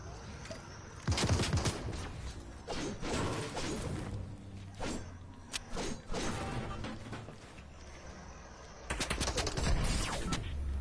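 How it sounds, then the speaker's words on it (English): Enemy gunfire in a shooter game comes in loud bursts of rapid shots at the start and end, with scattered single cracks between and a low mechanical hum throughout. "They're shooting me."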